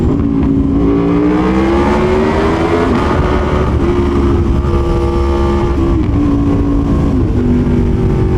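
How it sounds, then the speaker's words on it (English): A loud, steady Aprilia Tuono V4 1100 Factory motorcycle engine with modified exhaust rumbles close by, its exhaust tone rising and falling slightly as the throttle shifts. "the exhaust is loud enough"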